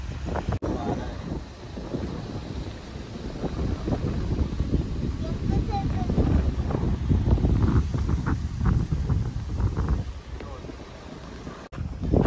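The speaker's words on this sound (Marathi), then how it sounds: "वारा भारी येतो ना इकडे" Strong wind buffets the microphone in a constant low roar while people talk over it.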